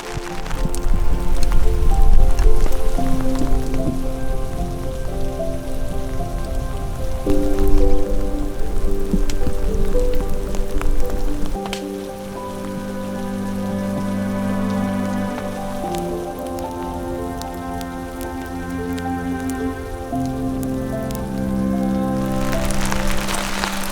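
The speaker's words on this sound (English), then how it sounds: "Now that it's been raining all afternoon" Steady rain patters across a wet campsite in the Owyhee country, a dense continuous wash of drops that stays loud throughout with no voices.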